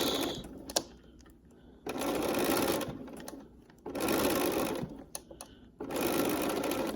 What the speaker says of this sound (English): And tuck your fabric in. And stitch.